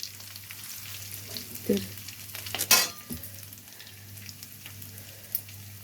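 Onions sauté in cold-pressed oil with a soft, low sizzle and occasional spoon scrapes, one louder clatter midway, and a steady low hum underneath.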